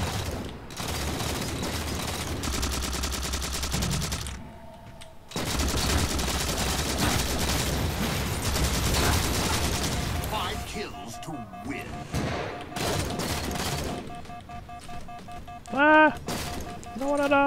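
Sustained rapid gunfire from the default weapon in Halo 4, with dense bursts of shots and crashes running over most of the stretch, brief lulls between volleys, and someone talking throughout.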